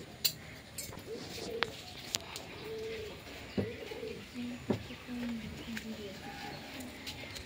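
Girirabaj pigeons in a loft give repeated low, throaty coos, close by and fairly soft, mixed with occasional taps and wing rustles. Someone speaks in between.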